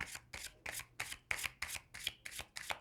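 Tarot cards being shuffled in a steady run of about nine quick riffling bursts, each a crisp papery flutter close to the microphone, with no voices.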